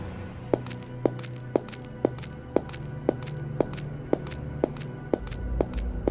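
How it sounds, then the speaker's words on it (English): Rapid footsteps hurry down a school hallway during a lockdown, about a dozen sharp, evenly spaced footfalls landing roughly every half second, fairly close and clear over a low background hum. "Then suddenly, more footsteps,"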